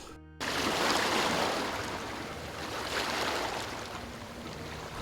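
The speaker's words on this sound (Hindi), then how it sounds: "अभी आप यहाँ पे देखिए कितनी ऊंची ऊंची लहरें उठ रही हैं" Tall ocean waves surge onto a beach in a broad, loud roar that swells and then slowly ebbs, close by, after a brief moment of quiet at the start, with no voices.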